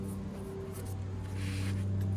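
A steady, droning lawn mower engine hum runs throughout at a distance, a continuous low motor sound in the background.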